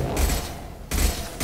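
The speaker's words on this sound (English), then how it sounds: "Firing an impact shot." Two heavy, booming impact shots of gunfire from the video game Mass Effect 2, spaced about a second apart, each with a rumbling tail and no voices.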